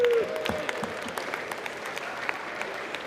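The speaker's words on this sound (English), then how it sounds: "Can we get a round of applause?" Moderate applause on the U.S. House floor, a fairly quiet, steady patter of clapping with a few sharper claps, preceded by a brief tonal sound at the start.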